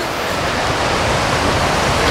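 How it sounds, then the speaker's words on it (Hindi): Fast-flowing river water in Neelum Valley, Kashmir, rushes as a steady, loud broadband roar that fills the whole moment without a break or any voices. "पानी का फ्लो तो चेक करो।"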